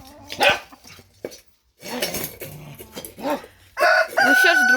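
A rooster crows among clucking hens settling down for the night and other farmyard sounds, with a loud sustained crow toward the end.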